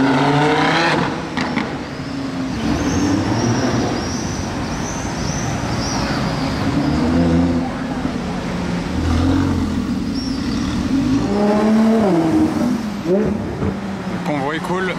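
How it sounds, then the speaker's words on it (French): Lamborghini supercars with V10 and V12 engines drive past in Monaco among a busy street hum. Engine notes rise and fall, then swell into sharp revving sweeps near the end. "Ah, il y a une autre lambeau derrière là-bas. V10 qui rattrape le V12."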